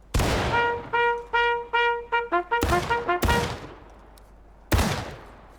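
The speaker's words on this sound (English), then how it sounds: "Firing by files. Commands. Fire." Musket volley fired by files in the Civil War game War of Rights: a string of sharp, ringing shots in quick succession, each with a metallic tone, followed by a few heavier louder blasts, one trailing after a pause, no talking.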